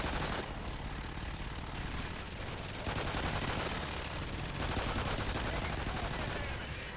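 Akimbo pistols firing in Call of Duty Ghosts Extinction co-op, dense continuous shooting mixed with loud battle noise throughout.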